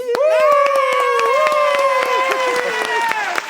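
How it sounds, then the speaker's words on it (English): A talk-show audience breaks into applause, a close, loud run of sharp claps mixed with cheering voices that holds steady throughout. "Ooh, can I get an applause?"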